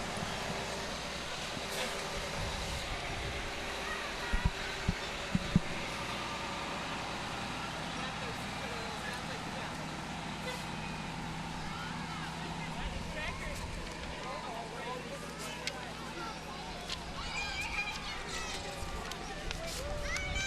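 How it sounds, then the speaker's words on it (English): Fire department ladder truck from the Blaine Spring Lake Park Fire Department passing in a festival parade, heavy steady rumble with a few sharp knocks near the start, and people talking over the crowd noise. "Ladder number 12 driving by."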